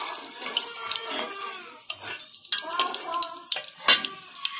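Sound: whole spices frying in oil in a kadai

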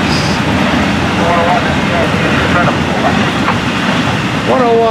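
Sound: FEC 101 freight train with double-stack cars passing

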